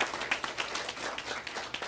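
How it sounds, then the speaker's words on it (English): An audience at a school board meeting claps for three award nominees, a brisk, steady patter of many hands heard at moderate distance. "Please join me again in giving another great round of applause for our 3 nominees and for their award."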